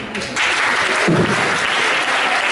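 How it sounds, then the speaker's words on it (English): A theatre crowd at a Zelig comedy show claps for Sesto San Giovanni, a loud, full wash of applause from many hands that swells after a brief softer start and holds. "big round of applause for Sesto San Giovanni"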